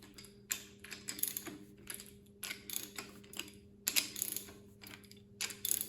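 A 1/2-inch drive ratchet tightens rocker arm nuts on a Ford FE 465ci tunnel port engine, making close, crisp bursts of clicking in short runs separated by brief pauses, with no talking.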